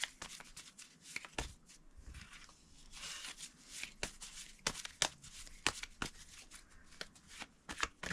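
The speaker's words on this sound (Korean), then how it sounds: "셔플을 하면서 떨어지거나 뒤집혀지는 카드 위주로 리딩을 하고 있습니다" Tarot cards being shuffled by hand during a reading, a steady run of crisp riffling snaps and soft slides close by, with bursts of sharper card flicks throughout and no talking.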